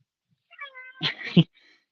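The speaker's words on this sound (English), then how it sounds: "I always say that to my cat when she meows." A pet cat gives one drawn-out indoor meow that rises and ends in a short, stronger chirp, close by and moderately loud against an otherwise quiet room.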